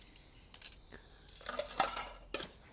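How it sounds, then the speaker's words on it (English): Budget camping cutlery, a flimsy knife, fork and spoon set, clinks and rattles as it is handled, a few sharp metallic taps and jingles scattered over a quiet background. "you get a knife, two knife and fork sets"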